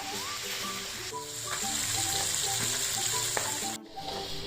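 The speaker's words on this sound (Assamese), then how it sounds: "এইখিনি মই ধুনীয়াকৈ মাছখিনি ফ্ৰাই কৰি ল'ম এতিয়া" Fish pieces coated with salt and turmeric fry in hot oil, giving a steady close sizzle with a few stirring clatters and a faint tonal hum in the background.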